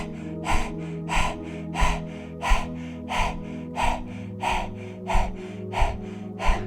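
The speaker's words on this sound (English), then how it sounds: "you're going to rapidly breathe in and out through your mouth" Rapid panting breath through an open mouth with the tongue out, a yoga breathing exercise, heard as close, even, rhythmic puffs about one to two per second over a low steady background drone.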